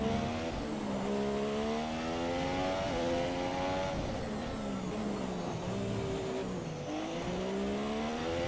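A Formula 1 car engine in the racing game F1 2017, screaming at high revs on a flying lap, with repeated climbing pitch sweeps broken by quick gear shifts, loud and continuous.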